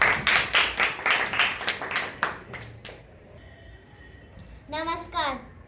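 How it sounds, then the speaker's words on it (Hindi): Villagers welcome ward members with a run of evenly spaced, rhythmic clapping lasting nearly three seconds before it fades, followed by a voice and brief chatter. "जोरदार तालियों के साथ इनका स्वागत कीजिए"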